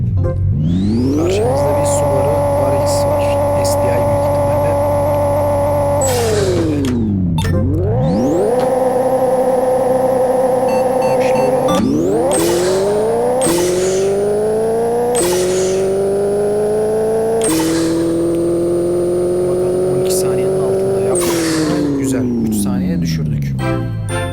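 A race car in the Pixel Car Racer game, loud and constant as it revs through the gears with rising engine pitch and sharp drops at each shift over a daytime race run, while a voice talks over it.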